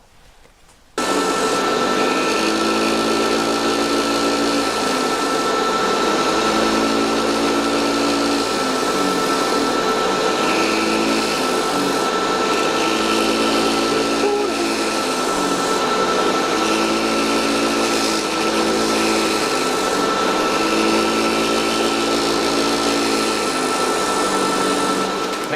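A pendant motor spins a polishing disc against platinum, giving a continuous high whir with a rhythmic, pulsing grind as the workpiece is pressed and eased off repeatedly, loud and close throughout.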